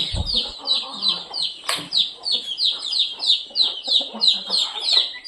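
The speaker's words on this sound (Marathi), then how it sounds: "इथं कोंबड्या आहेत आपल्या आवाज येत आहे" Chickens cluck and chirp in a busy, rhythmic stream of short calls nearby, with a sharp clatter near the start.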